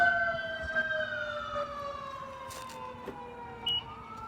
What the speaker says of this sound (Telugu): అంబులెన్స్ ఇట్లా వస్తుందా? వెనకాల మన ఇంటి వెనకాల నుంచి పోతుంది.